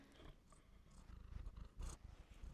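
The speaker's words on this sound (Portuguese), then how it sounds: "Não sei se vocês estão a ouvir, mas a minha princesa está a miar." A house cat purring softly and continuously up close, a low rhythmic rumble with slight swells and breathy textures, quiet and alone without talk.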